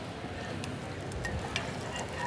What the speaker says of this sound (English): So just fry up your garlic for a minute or so.